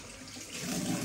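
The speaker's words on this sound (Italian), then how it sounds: "Ah no, eccola qui l'acqua calda." Hot water runs from a household tap during Saturday cleaning. The faint, steady splash grows a little louder as the flow picks up, with no talking.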